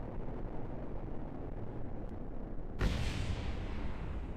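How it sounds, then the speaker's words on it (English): In a plane-building combat game, a steady roaring jet drone fills the background until a sudden loud whoosh of an intercept missile launching cuts in and keeps rushing on. "It's firing a missile at a missile"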